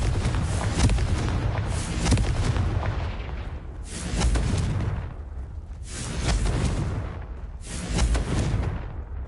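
Repeated heavy blasts of the Confringo fire spell in Hogwarts Legacy, about four loud rolling explosions each swelling and fading over roughly two seconds, with no talk over them.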